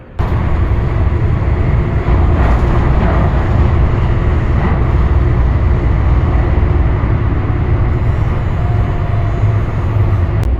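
Loud, steady rumble of a moving RTD E Line light rail train heard from inside a nearly empty car, constant low roar with faint rattles throughout.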